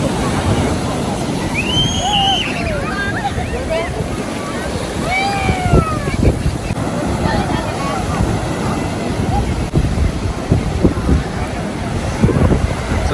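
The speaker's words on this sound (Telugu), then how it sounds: "చూశారు కదా ఎంత పెద్ద పెద్ద అలలు వస్తున్నాయో" Steady roar of large ocean waves at Mypadu Beach and wind blowing across the microphone, with faint voices and bird-like calls scattered through; waves wash in continuously.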